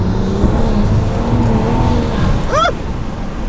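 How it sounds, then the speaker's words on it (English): Turbocharged car spinning its Zenus RT660 tires, a steady loud engine drone with rising tonal whine and a brief squealing chirp near the end. "Too much wheel spin."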